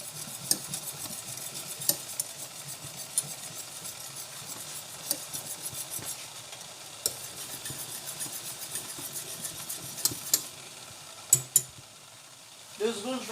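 Pastry cream with vanilla pods being stirred steadily in a pan as the flour cooks, a soft continuous scraping and clicking close by with a faint sizzle underneath, ending with a brief louder rustle.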